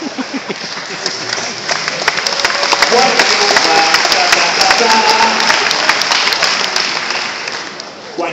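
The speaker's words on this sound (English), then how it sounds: "White guilt claps are awesome" Audience applause and some cheering ring out through a large hall during an opening keynote at a political conference, a steady wash of clapping that swells and holds, with a voice talking over it at times.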